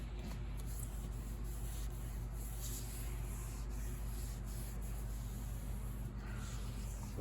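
A cloth wipes lacquer thinner over the badly faded finish of an 1867 Chickering 33B piano, giving a steady, soft, close rubbing hiss that runs unbroken throughout with no voices.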